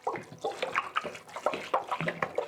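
Ten litres of water poured from a jerry can into a Rovin Ecospin portable washing machine, a steady splashing gush with uneven surges, close and fairly loud, no voices.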